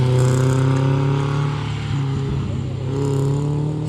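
An MG sports car races held in first gear, its engine droning loudly at steady high revs with a slight dip midway, while people talk faintly underneath.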